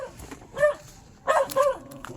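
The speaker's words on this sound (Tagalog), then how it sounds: "Hoy, kaingay mong aso ka." A dog barks outside a home, a few sharp barks and yips in two short bursts with a brief quiet gap between them, fairly close and moderately loud.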